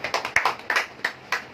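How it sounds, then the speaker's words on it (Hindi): A church congregation at a Sunday anointing oil and holy communion meeting claps in praise, sounding as a handful of scattered, uneven bursts of hand claps over a short moment. "प्रभु के लिए ताली बजाएंगे"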